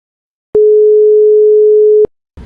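A single long steady telephone tone sounds alone for about a second and a half, clean and loud, cutting off abruptly before a faint burst of noise.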